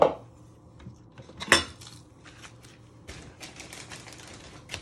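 Knife cutting the ends off an onion on a board, with one sharp clack followed by light, scattered taps and scraping of the blade, all close and quiet, with no voices.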